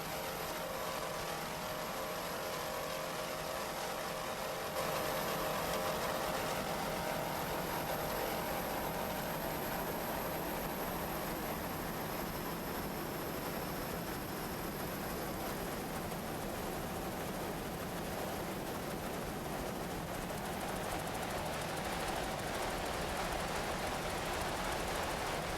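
Racing powerboat engines, including an A-class 28-foot Magnum, drone steadily throughout with a loud, continuous roar and a high whine, carrying on without voices.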